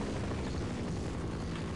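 Helicopter in the video game Half-Life 2, a steady broadband rotor and engine roar that fills the whole short stretch, loud and continuous with no talking.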